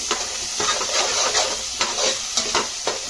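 Tomato pieces stir-frying in a pan for pappu chaaru, a soft steady sizzle broken by repeated scraping strokes of a spoon at an uneven rhythm.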